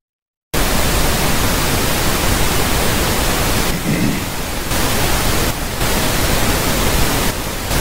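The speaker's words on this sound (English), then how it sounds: "It's just white noise." Steady, loud broadband white noise hiss from an audio track, continuous after a brief silent start, with a couple of slight dips.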